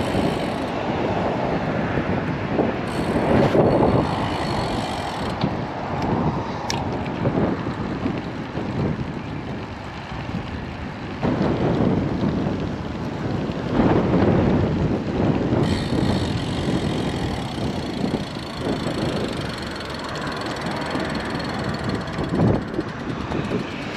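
Strong wind buffets a road bike rider along a coastal road in Australia, a continuous loud roar and rumble of gusting air that rises and falls throughout.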